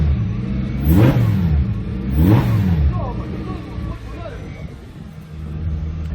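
A Lamborghini engine after intake tuning gives two sharp, loud revs, the pitch climbing and falling each time about a second apart, then settles into a deep idle rumble with voices nearby.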